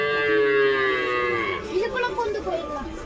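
A calf at a Perumal temple on Nainamalai lets out a long, loud, close moo with a falling pitch, followed by softer bellowing calls, while faint crowd murmur sits beneath.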